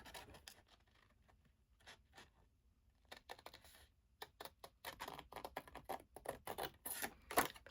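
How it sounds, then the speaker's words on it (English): Scissors snip out a paper birthday-wishes sentiment for a stamped, layered card, making quiet, crisp cuts in an irregular run that grows busier and slightly louder toward the end. "we'll take our scissors and cut the birthday wishes out"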